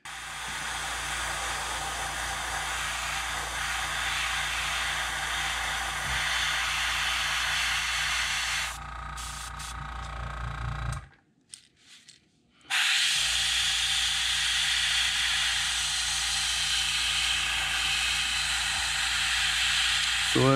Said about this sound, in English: I draw my airbrush back and fade in the rest of it